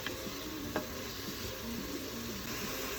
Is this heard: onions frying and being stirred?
yes